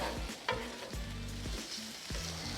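Potatoes sizzle on a hot griddle beside ham steak as a spatula mixes them, with several clacking scrapes over a steady close frying hiss, no voices.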